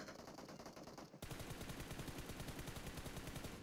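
Rapid automatic gunfire in the PUBG battle royale video game: a quieter burst of shots, then a sustained loud stream of rapid rattling rounds with no talk.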